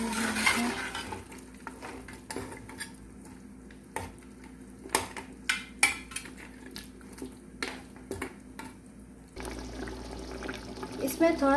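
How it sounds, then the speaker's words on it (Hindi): Water boils in a pot while mutton biryani cooks, a low steady bubbling and sizzle with scattered utensil clinks and stirring taps against the pot. "पानी उबल रहा है गाइस, आप देख सकते हैं"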